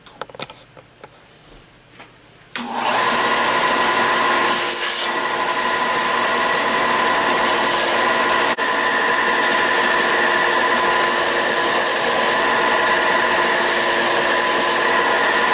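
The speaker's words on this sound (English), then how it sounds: "So I'm running 120 grit paper on my sanding station." An electric sander with 120-grit paper starts up after a couple of seconds of quiet handling, then runs as a steady, loud whirring rasp across wood without a break.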